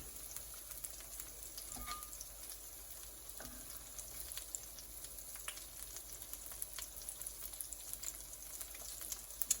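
Birria quesa tacos frying in a non-stick skillet, a steady, faint sizzle with occasional soft ticks and pops and no talking.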